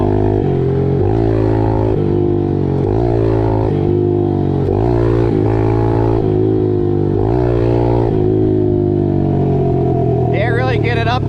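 Yamaha 110 motorcycle engine revving hard in a failed wheelie attempt, a steady loud droning tone that rises and dips in pitch throughout, with a voice talking over it.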